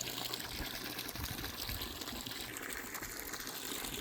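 Water gushing steadily from a non-potable outdoor tap in a French town, a constant close splashing rush with no pauses.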